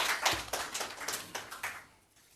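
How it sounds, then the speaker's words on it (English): Audience applause for a president being invited to speak at a formal event, a dense burst of clapping from the crowd that swells and then fades out. "A round of applause."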